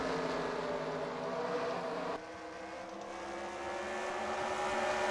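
Stock race cars roar around the Bristol short track at night, a loud continuous engine drone with a sharp shift in pitch partway through as cars pass, no voices.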